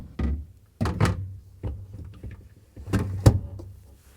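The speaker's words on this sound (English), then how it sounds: "And let's put the shelves back in." Shelves in a Samsung refrigerator being slid back into place, with a series of hollow plastic thunks and knocks, close up and irregular, no talk.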